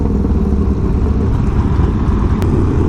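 A custom-built Harley Sportster motorcycle engine roars on a group ride, a loud, steady low rumble with wind buffeting and no break in the drone.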